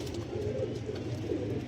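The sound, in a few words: pigeon cooing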